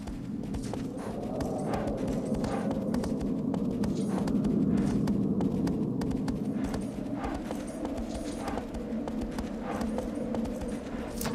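Horse hooves clip-clop in a steady walking rhythm in the game Shadow of the Colossus, a continuous near plodding over a low ambient rumble, with no talk.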